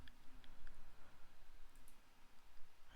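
Typing on a computer keyboard at a terminal, with quiet irregular key clicks in quick bursts, faint and close, alone without voices.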